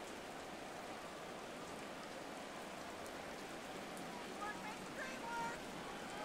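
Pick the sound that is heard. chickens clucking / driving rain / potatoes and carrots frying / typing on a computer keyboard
driving rain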